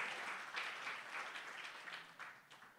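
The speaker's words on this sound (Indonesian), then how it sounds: "Yang percaya gampang, beri tepuk tangan buat Tuhan Yesus" A church congregation at a Good Friday service claps for Jesus, a soft continuous patter of many hands heard from a distance with no voices over it.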